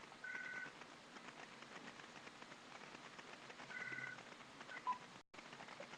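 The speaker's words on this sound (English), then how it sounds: "That was my phone ringing." Faint electronic phone ring, two short warbling tones a few seconds apart, heard over a steady background hiss.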